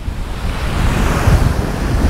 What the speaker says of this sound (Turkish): yok böyle bir rüzgar ya